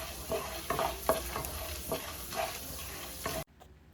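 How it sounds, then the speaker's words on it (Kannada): Urad dal and chana dal fry in hot oil, crackling while a spoon stirs and taps the pan in quick repeated strokes, until the sound cuts off abruptly near the end. "ಕೆಂಪು ಬಣ್ಣ ಬರೋವರೆಗೂ ಇದನ್ನು ಹುರ್ಕೊಳ್ಳಿ."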